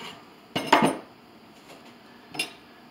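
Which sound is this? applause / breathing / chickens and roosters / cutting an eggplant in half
cutting an eggplant in half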